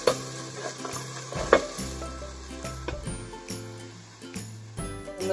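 Okra sizzles as it fries in oil in a pan and is stirred, with a steady close crackle broken by a few sharper scrapes and clicks of the spoon. No one speaks.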